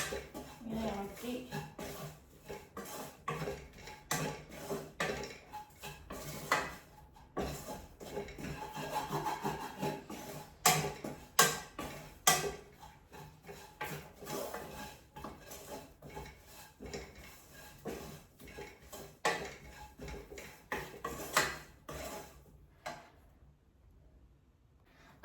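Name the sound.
stirring spices in a cooking pot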